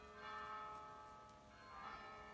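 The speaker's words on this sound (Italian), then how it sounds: "come adesso sentite delle campane," Church bells ringing at a moderate distance, with sustained tolling tones that swell twice and hang in the air, with no voices.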